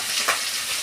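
Potol, potato, fish and eggplant fry in hot oil in a home kitchen for a family rice ceremony, giving a brief, loud, continuous sizzle that sounds close by, with no talking.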